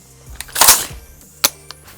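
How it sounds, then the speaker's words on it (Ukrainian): A quick metallic rack and snap of an AR-15 charging handle being pulled, a sharp mechanical clack followed by a second brief click, then a faint tap, close by with no talking. "Нам потрібно смикнути рукоятку зведення під час того, як виводимо зброю на ціль."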